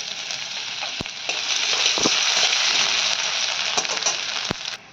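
Chopped garlic and ginger sizzle loudly in hot oil for a chili chicken gravy, a steady broadband crackle that swells after the first second, with a few sharp clicks of a utensil against the pan near and alone.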